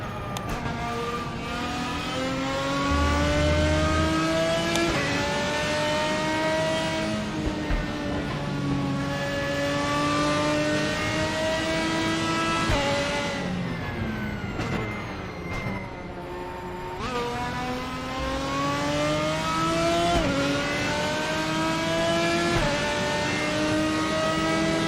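A race car engine in the RaceRoom racing game roars continuously, rising and falling in pitch through gear changes and braking, loud and close with no talk.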